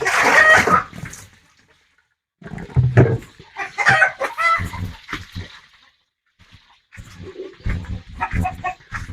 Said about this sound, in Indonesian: ayam-ayam ini ribut sekali